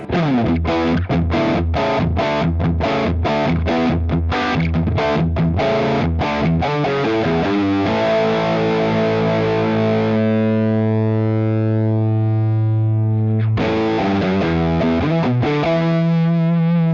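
A distorted rhythm guitar tone from a Fractal FM9 preset, played with the expression pedal down: a run of loud, tight chugged strokes, then a long sustained chord that rings out before the chugging resumes. No voices.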